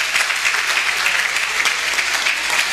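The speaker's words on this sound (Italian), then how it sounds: "signori, facciamo un bel applauso a queste bimbe" An outdoor festival crowd in Lauria applauds a group of young girls, a loud, even roar of many hands clapping continuously with no pauses.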